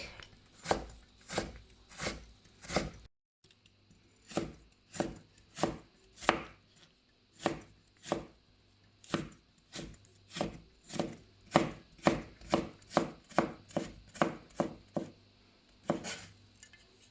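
A knife chops a potato into thin strips on a cutting board, with a short pause near the start and then quicker, even strokes. No one speaks.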